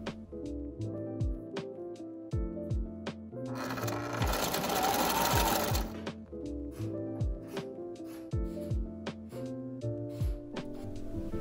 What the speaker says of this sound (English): how the fabric would interact with my sewing machine